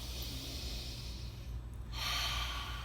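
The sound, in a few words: deep breaths inhaling peppermint essential oil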